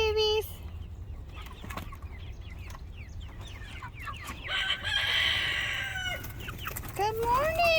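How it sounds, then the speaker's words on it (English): Cornish Cross meat chickens stepping out of a chickshaw in the morning cluck and chirp continuously at close range, with bright peeping calls that rise near the end over a steady low background hum. "Cornish crosses coming out of the chickshaw."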